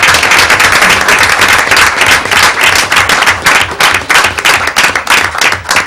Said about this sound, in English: Let's give a round of applause to the entire Westfield High School girls swim team.